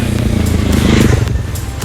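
Bajaj Dominar 250 motorcycle engine running close by, a loud, gruff, pulsing idle-to-rev drone with a steady throbbing rhythm throughout.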